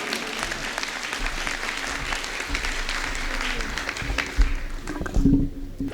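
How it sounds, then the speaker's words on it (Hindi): Enthusiastic audience applause filling a hall at a Hindi poetry gathering during a Jain religious festival in Palwal, dense and sustained, fading near the end as a voice and a bright tone enter. "पूरा सदन जोरदार तालियों से अभिनंदन करे"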